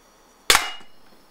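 A RAM combat pistol fires a single sharp, close shot that cracks out of near silence and rings off into a short fading tail.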